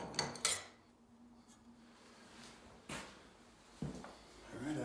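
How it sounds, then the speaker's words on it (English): A metal card scraper being pulled free of a woodworking vise, heard as a few short metallic clanks and scrapes spaced a second or so apart, close but faint in a quiet shop. "I've got the scraper right out of the vise"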